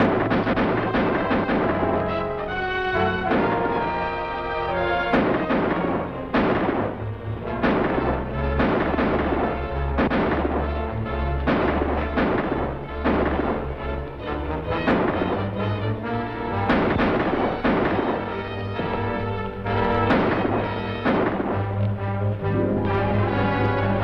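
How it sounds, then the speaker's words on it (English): Gunfire in a 1950 western ranch film: a rapid, dense series of loud shots and bangs repeating throughout, layered over a booming, rumbling old soundtrack. "Stay here and keep shooting."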